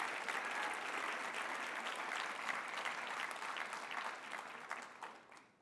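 An audience applauds, dense clapping sustained for several seconds before fading out.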